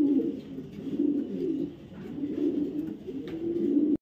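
Pigeons coo steadily at a pigeon farm where large pairs are kept, with soft, overlapping, rhythmic cooing from several birds close by and no talk.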